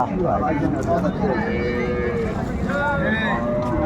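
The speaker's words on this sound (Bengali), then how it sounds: "এখানে বেশ সুন্দর গাভী বাছুর কোয়ালিটি সম্পন্ন বাচ্চাও ভালো" Dairy cows and calves low at a busy rural cattle market in Raniganj, Dinajpur, their drawn-out moos rising over a constant crowd murmur and nearby talking.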